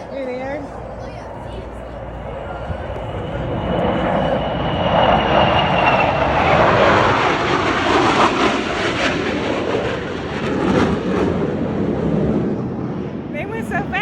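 Military jets flying past at an airshow, a jet roar that swells to a loud rushing peak midway and then recedes, with people talking over it.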